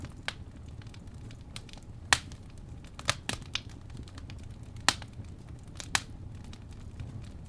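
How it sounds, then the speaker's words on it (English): A crackling fire with sharp, irregular pops and snaps over a soft low rumble, the crackles scattered unevenly and fairly close. "Number 2, we have crackling fire."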